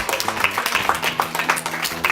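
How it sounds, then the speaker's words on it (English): Children at a summer camp clap in a scattered, steady round of applause lasting a couple of seconds, close and fairly loud over a low background murmur. "round of applause for me."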